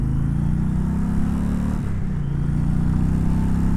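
A 2020 Indian Challenger Darkhorse motorcycle accelerates onto a freeway, its engine a loud, steady low drone mixed with wind rush, close and continuous throughout.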